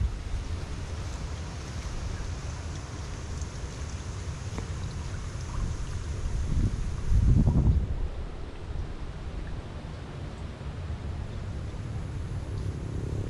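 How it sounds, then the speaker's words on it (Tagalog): Steady blustery wind rushes past, swelling into a louder gust partway through before easing back to a constant roar. "lakas ng hangin"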